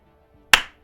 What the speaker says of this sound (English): that clap may have been a loud